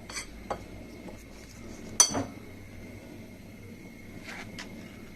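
A spoon scrapes and clinks against a bowl while flour is mixed into egg batter, a few sharp metallic taps over soft stirring, close and fairly quiet.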